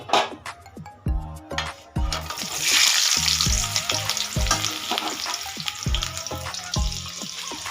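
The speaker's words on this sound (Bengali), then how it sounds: "এই আলুগুলো তেলের মধ্যে ভেজে নেব।" Small salt-boiled potatoes fry in mustard oil, a loud steady sizzle after a few early clinks and stirs, with occasional scrapes of a utensil against the pan.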